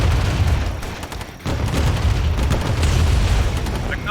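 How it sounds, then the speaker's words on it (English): Airstrike explosions in the Command & Conquer Remaster video game, a dense, loud stretch of deep booming blasts that overlap into a continuous roar with one brief dip partway through. "airstrike over there."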